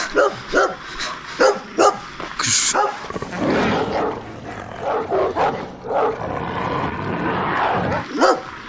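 Dogs behind a yard gate in Ukraine bark in repeated sharp bursts, some close and loud, with a few yelps mixed in and a stretch of rougher, overlapping noise midway.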